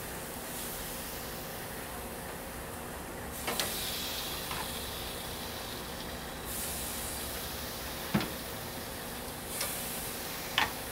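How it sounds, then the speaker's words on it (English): Steaks seared on a hot grill make a steady, faint hiss throughout, with a few short sharp pops and crackles scattered across it and no voices. "hear that sizzle"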